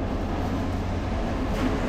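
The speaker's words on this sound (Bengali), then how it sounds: "দিনাজপুর কমিউটার অপেক্ষার পালা শেষ করে রংপুর রেলওয়ে স্টেশনে প্রবেশ করলো" Dinajpur Commuter train rolling into Rangpur railway station, a steady close rumble of railcars with broadband rail noise throughout and no talking.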